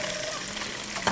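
Oysters, lightly coated and kept pale, fry in hot oil for a Taiwanese oyster noodle garnish, giving a steady, close, soft sizzle with a crackly hiss that holds evenly for about a second.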